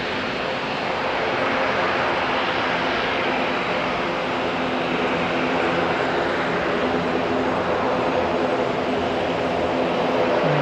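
An airliner arriving at Auckland International Airport on flight 664 from Dunedin, heard as a loud, steady, broad jet roar that holds without break from start to finish.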